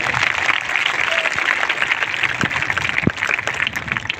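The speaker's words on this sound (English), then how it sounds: "don't you think that they deserve a huge round of applause for their wonderful performance?" Students and staff at a school Teachers' Day event applaud class 11's performance, a dense, even wash of many hands clapping close by for the whole stretch.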